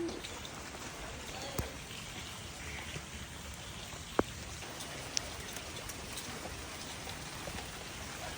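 Steady rain patters continuously on a hard surface, with an occasional louder drop or tap standing out from the even hiss.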